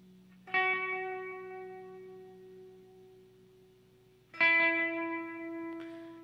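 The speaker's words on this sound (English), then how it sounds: "And then we're going to take these repeats all the way up." Two struck guitar notes through a T-Rex Binson Echorec with the repeats turned all the way up ring out with long, sustained echo tails, each decaying slowly, with no talk.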